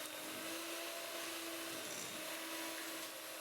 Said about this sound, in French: on mélange bien avec le batteur jusqu'à ce que le beurre devienne blanc